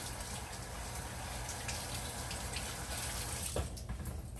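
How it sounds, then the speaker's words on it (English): Water runs steadily from a tap into a sink during handwashing, a faint continuous hiss and splash with a brief clunk near the end and no talking. "Wash my hands."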